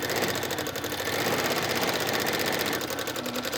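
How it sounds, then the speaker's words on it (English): A sewing machine runs steadily through free motion quilting on fabric, a fast, even mechanical stitching patter held at constant volume throughout, with no talking. "So all I'm going to do is just start stitching."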